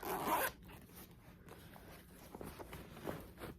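A zipper on a handbag or purse is pulled in one quick, loud rasp at the start, followed by faint handling noises.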